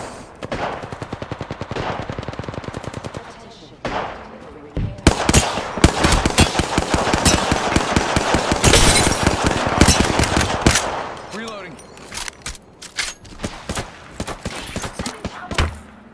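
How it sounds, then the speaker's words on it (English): Video game gunfire: loud bursts of rapid automatic fire and single shots crack repeatedly over about sixteen seconds, thinning to scattered shots near the end. "Still taking fire."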